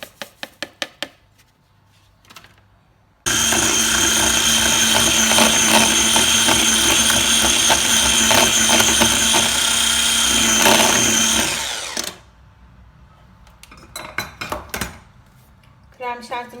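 An electric mixer whips cream for homemade ice cream, starting abruptly and whining loudly and steadily for about nine seconds before winding down. Light clinks of a bowl and utensils come before and after.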